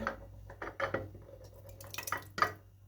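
Hot pepper sauce is scooped from a bowl into jars set on a plate, with close clinks of glass and utensils, soft scraping and a sharper clink near the end, with no talking.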